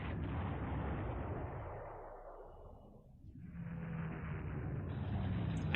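A unit destroyed in the wartime strategy game Panzer Corps gives a broad, rumbling blast that swells and fades over several seconds, followed by a second rolling surge of noise, loud and alone.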